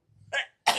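A single short sneeze, faint and close, preceded by a soft breathy intake and followed by a sharp burst.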